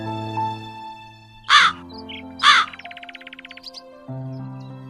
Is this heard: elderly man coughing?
no